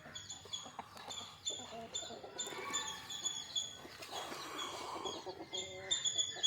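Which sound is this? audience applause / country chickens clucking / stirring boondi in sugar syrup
country chickens clucking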